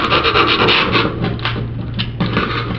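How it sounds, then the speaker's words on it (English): A screwdriver scrapes excess tile mortar from the edges of tiles in an older-home bathroom remodel, giving steady close rasping and scratching strokes with a low background hum throughout. "just using a screwdriver and getting rid of some of this excess mortar"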